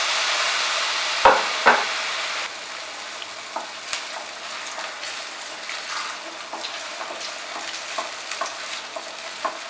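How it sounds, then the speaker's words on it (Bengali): Pat shaker bora fritters fry in hot oil in a wok, giving a steady, close sizzle throughout, broken early on by a couple of sharp utensil clinks and a few soft pops. "কড়াইতে তেল গরম করে আমি বড়াটা ছেড়ে দিলাম।"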